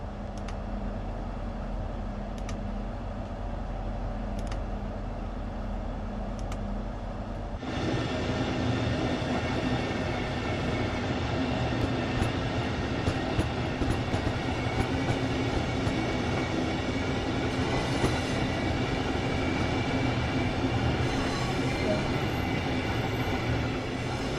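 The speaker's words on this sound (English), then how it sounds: "This particular train is a Class 395 Javelin built by Hitachi in Japan for European operation." Class 395 Javelin six-car Hitachi electric train in Train Sim World 2 runs steadily, a low rumble that swells into a louder continuous rolling roar with faint track clicks, no talk.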